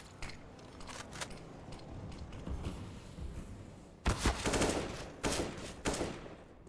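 Rapid exchange of rifle fire in a CS:GO match, with scattered shots early on and then loud, dense bursts of gunfire crackling back and forth close by.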